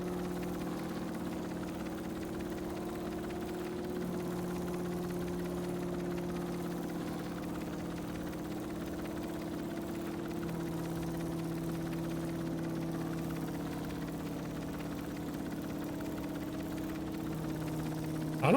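A vehicle engine in the game Stormworks runs steadily at up to 35 RPS, a continuous mid-low hum with stable tonal bands that stays even throughout, with no speech.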